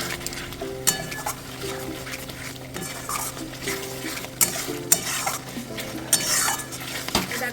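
Ground spices such as cumin and black pepper are stirred and fried in a pan in a home kitchen. A metal spoon scrapes and clanks against the pan in irregular strokes over a low, steady sizzle, with no talking.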